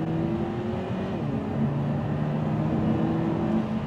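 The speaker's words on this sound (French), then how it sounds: "Sinon, allez, on va quand même faire une petite accélération." Lotus Emira i4 sports car with an AMG four-cylinder engine accelerating hard, a loud, steady engine drone that holds close and continuous throughout.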